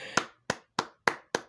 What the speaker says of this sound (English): Michael clapped for Vanessa